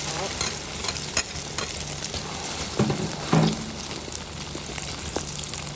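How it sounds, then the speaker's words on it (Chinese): Eggs fry in a hot oiled wok, meant for cooking with wild green onions, a steady close sizzle with occasional spatula scrapes and stirring clatter. "下蛋炒"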